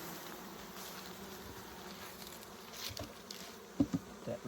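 Honeybees buzzing at a hive during pest inspection, a steady faint drone with a few closer knocks near the end.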